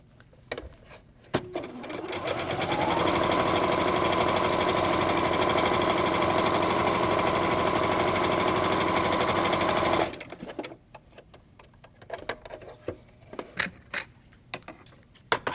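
A sewing machine runs steadily for several seconds, a loud continuous mechanical whir and rapid needle chatter stitching fabric pieces together, framed by quieter handling clicks and rustles before and after.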